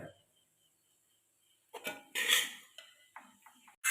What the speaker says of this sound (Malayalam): ചോറ് വേറൊരു പ്ലേറ്റിലേക്ക് മാറ്റുന്നുണ്ട്